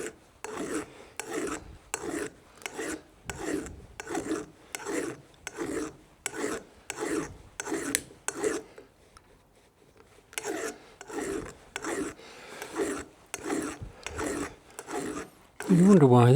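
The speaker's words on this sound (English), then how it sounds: "Just got a file. Just clean this up a bit." A hand file scrapes a burr off a cylinder head in steady, rhythmic back-and-forth strokes, about two a second. The strokes are close and loud, pause briefly partway through, then resume.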